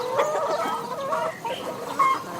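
Hens clucking on a farm, a close, steady stream of overlapping clucks and murmuring calls with occasional sharper notes, loud and alone without talk.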